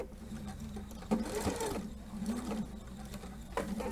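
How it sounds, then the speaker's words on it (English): Sewing machine fitted with a dual feed foot stitching fabric, a faint close mechanical chatter with rhythmic knocks and needle taps, fairly quiet and steady, no speech. "put my foot down, my needle down, and I'm going to start to sew"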